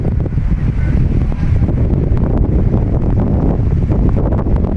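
Strong southwest monsoon wind by the seashore roars and buffets against the microphone without pause, a dense low rumble throughout.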